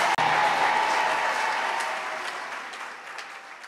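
A church congregation applauds during a Sunday service in a steady, dense wash of clapping that fades slightly toward the end, loud and close, with no talking over it.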